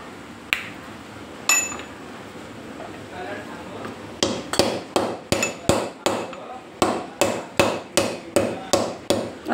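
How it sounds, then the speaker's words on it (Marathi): Dry ginger, nutmeg and cinnamon are pounded in a metal mortar and pestle, starting with a few scattered knocks and then a steady run of sharp, ringing strikes at close range. "मोठे मोठे मसाले सुंठ, जायफळ आणि दालचिनी हे कुटून घेऊया"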